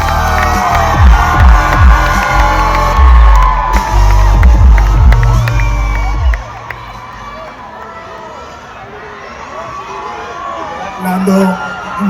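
Spectators at the Formula 1 Spanish Grand Prix in Barcelona cheer and whoop loudly, with rhythmic shouting and clapping in the first half, then a thinner, more distant crowd murmur later, while voices talk nearby.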